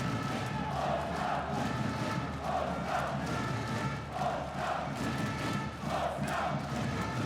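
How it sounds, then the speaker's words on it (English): Polish fans fill a handball arena with loud, massed chanting in a steady rhythmic cadence, a roaring crowd swelling in regular waves with no pauses. "The Polish fans in fine voice and the Swedes trying to cheer them on, being drowned out"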